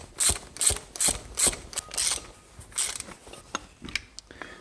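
A ratchet wrench tightens a 19 mm nut on a Land Rover Defender suspension bush, giving bursts of quick metallic clicks in a steady back-and-forth rhythm, close by and alone.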